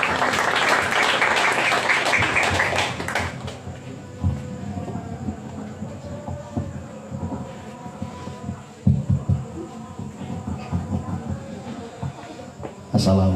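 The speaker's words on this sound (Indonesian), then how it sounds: "Kita apresiasi bareng untuk beliau, tepuk tangan." Audience applause at a gathering in Santrendelik, Semarang: about three seconds of dense, loud clapping that then gives way to scattered room noise and a voice speaking.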